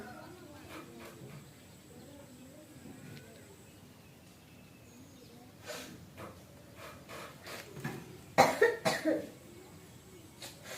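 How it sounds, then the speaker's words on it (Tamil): A few harsh coughs burst out near the end, loud and close, after a quieter stretch of faint background noise and murmuring. "அங்கிட்டு போய் இருமுடி"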